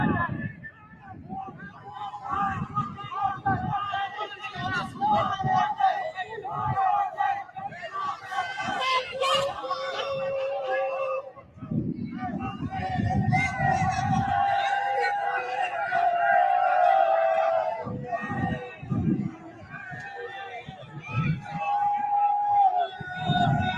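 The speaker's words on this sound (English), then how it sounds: "this is the crowd outside" A crowd gathers outside the St. Louis City Justice Center during a riot, with a steady babble of many voices, scattered shouts and wind buffeting, while people talk nearby.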